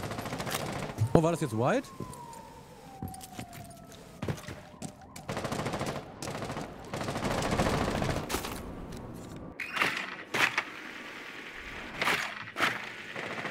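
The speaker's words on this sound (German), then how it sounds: "Kam hier gerade Schüsse an?" Gunfire in a Rainbow Six Siege match: sharp bursts and scattered shots crack through busy in-game noise, with someone talking over parts of it.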